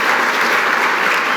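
Steady, dense applause from an audience greeting a guest introduced at an award dinner, sustained and even throughout with no break or talk over it.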